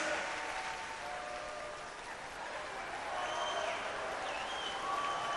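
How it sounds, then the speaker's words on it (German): Studio audience at a Die Ärzte TV appearance clapping, a steady diffuse patter of many hands with faint voices mixed in, moderately quiet and continuous. "Jetzt müsst ihr nur noch langsam klatschen"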